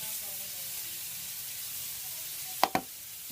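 A faint, steady sizzle of chicken frying in a pan hisses softly in the background, broken near the end by two quick clinks.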